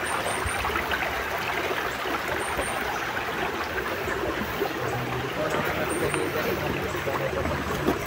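A wide creek flows with a steady, dense rushing and trickling wash, unbroken from start to finish, with no voices over it.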